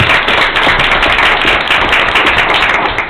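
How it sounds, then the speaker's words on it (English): Meeting audience applauding steadily and loudly, a dense continuous wash of many hands clapping throughout the short stretch. "Let's give them a round of applause."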